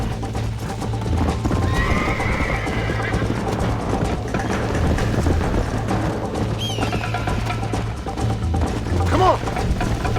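A horse in the video game Red Dead Redemption gallops with rapid clip-clop hoofbeats and neighs loudly, all under a continuous game music and ambience bed.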